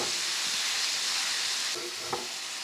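Ground beef chopped up and frying in a pan on a small burner, a continuous hiss of sizzling with light stirring scrapes near the end.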